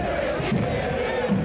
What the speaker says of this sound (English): It was a sold-out crowd roaring through Torero Stadium,